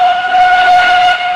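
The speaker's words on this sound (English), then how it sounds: "Whistled Edward." A steam locomotive whistle in a Thomas & Friends style story sounds a loud, sustained two-tone blast that holds steady for its whole length with no talking.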